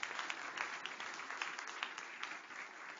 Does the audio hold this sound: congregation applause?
yes